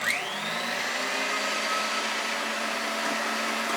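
An electric mixer whips egg whites at high speed, producing a loud, steady whirring drone throughout with no pauses.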